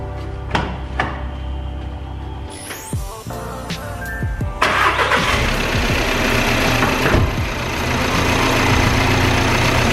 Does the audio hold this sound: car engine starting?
yes